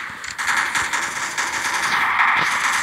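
Rapid automatic gunfire from a Roblox shooter game, a dense continuous burst of crackling shots running steadily through the whole stretch at a loud, even level.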